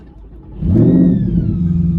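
A Procharged C8 Corvette running on 91 octane cranks and fires up about half a second in, its engine catching into a loud, close, rumbling idle with a rising supercharger whine that holds steady afterwards.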